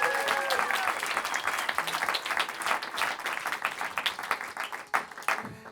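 A small concert audience applauds after a private show, a dense burst of clapping with crisp individual claps that thins out and becomes more scattered over about six seconds.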